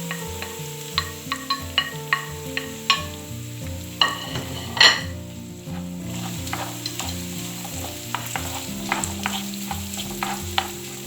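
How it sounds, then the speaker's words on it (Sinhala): Potatoes and carrots fry in a pan for a chicken Cornish pasty, a constant close sizzle broken by frequent light clicks and scrapes of stirring, with a louder clack midway and no talk. "මේ විදිහට අල ටික කැරට් ටික විනාඩියක් දෙකක් ටෙම්පරර් කරලා පස්සේ"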